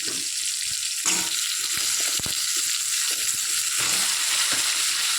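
Onion and flat beans fry in hot oil with a loud, continuous hissing sizzle, broken by intermittent stirring and scraping sounds in the pan.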